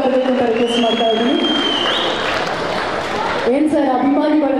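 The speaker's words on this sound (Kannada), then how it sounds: "ಸಿನಿಮಾದ ಅನ್ನದಾತರಿಗೆ ಒಂದ್ ಸ್ವಲ್ಪ ಚಪ್ಪಾಳೆ ಜೋರಾಗಿ ಬರಬೇಕು ಅಂತ ರಿಕ್ವೆಸ್ಟ್ ಮಾಡ್ತಾ ಇದ್ದೀನಿ" Audience applause at a film trailer launch event, sustained clapping and crowd noise with voices talking over it.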